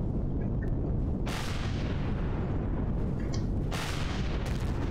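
Heavy booming turret fire in the space game Empyrion, loud and continuous, with sustained explosive blasts and two sharp surges of noise, no talking.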